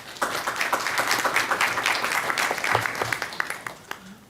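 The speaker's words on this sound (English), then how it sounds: "Maybe just another round of applause for our presenters." An audience at a medical symposium claps for the presenters, scattered individual claps forming a moderate round of applause that swells and then tapers off at the end.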